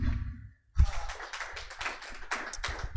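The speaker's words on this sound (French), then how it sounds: "Applaudissons encore une fois nos sœurs." A church congregation breaks into applause after a short silence, a steady patter of many hands clapping together that carries on to the end.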